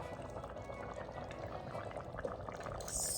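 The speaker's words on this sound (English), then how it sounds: "We're gonna add in our cream." Cream poured into a pot of simmering orzo for a one-pot Greek meatball dinner, a steady close liquid pour over bubbling broth lasting a few seconds, no talk.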